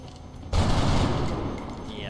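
Single loud gunshot from a rifle in XCOM Long War, a sharp blast with a rumbling tail decaying over about a second and a half, heard alone over low game ambience.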